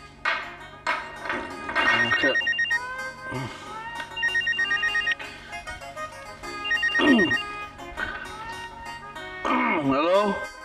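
A telephone rings in repeated electronic ringtone bursts with a steady melodic pattern at a home, loud and close, with brief voices and other sounds between the rings.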